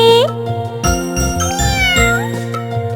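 A cat meows repeatedly in a Bengali children's rhyme song, with clear rising and falling cries close by, accompanied by a steady tinkling, musical backing throughout.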